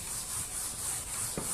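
Chalk or marker drawn across a board during a lecture, a faint continuous scratchy rubbing in steady strokes with no talking.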